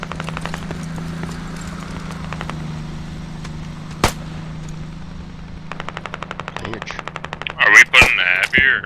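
Automatic machine gun fire in the military shooter Squad, a rapid, evenly spaced burst of close shots after a single earlier crack, over a low steady engine-like hum, followed by louder distorted blasts.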